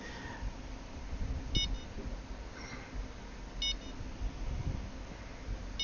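A few short electronic beeps from a fishing rod bite alarm in a fishing video game, in brief clusters, spaced a couple of seconds apart over a steady low background hum.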